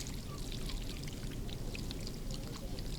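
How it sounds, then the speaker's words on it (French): Water poured steadily over hands for handwashing, a continuous close splashing stream with no break and no talk. "Et bon, vas-y, de l'eau."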